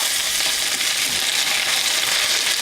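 Green tomatoes frying in a pan of bacon grease and coconut oil, a loud, dense, continuous sizzle close up with no voices over it.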